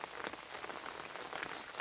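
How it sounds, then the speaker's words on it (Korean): Steady rain patters on a vegetable garden planted with flowering chives and jujube trees, a dense, even hiss of drops close by with no voices. "지금 비가 오는데"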